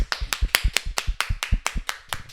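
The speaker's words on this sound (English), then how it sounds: "Everyone clap your hands for Austun Reed." Hands clapping at a comedy stage show, about a dozen sharp, evenly spaced claps in a steady rhythm, close and distinct with no talk over them.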